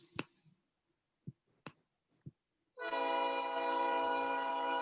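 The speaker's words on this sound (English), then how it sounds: "Oh, that's a train." A train on nearby tracks: a few sharp isolated clicks, then a loud, steady, sustained horn blast that holds to the end.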